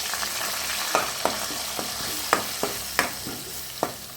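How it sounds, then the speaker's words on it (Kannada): Onion paste frying in oil with fennel seeds for a restaurant-style palak chicken gravy, a steady close sizzle broken by several sharp spoon scrapes and clinks against the pan. "ಚಮಚದಷ್ಟು ಬಡೆಸೊಪ್ಪು ಹಾಕಿ ಫ್ರೈ ಮಾಡುವ. ಇವಾಗ ಪೇಸ್ಟ್ ಮಾಡಿಟ್ಟ ಈರುಳ್ಳಿ ಹಾಕುವ."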